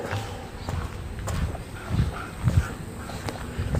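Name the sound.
dog barking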